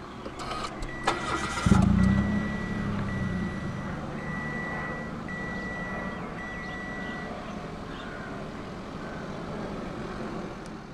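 A 2013 Mitsubishi Mirage GS small car engine cranks briefly via push-button start and catches, then settles into a steady idle while a dashboard chime beeps in a repeating pattern.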